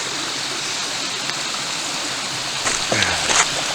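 Steady broadband rush of a rain-swollen stream running through a forest in Mark Twain National Forest, continuous and fairly close, with a few faint footsteps and brief rustling near the end.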